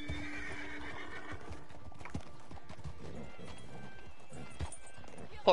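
Horse neighing in Red Dead Online: a sharp whinny and snort early on, then scattered clip-clop of hooves over steady game ambience, with a short loud burst at the very end.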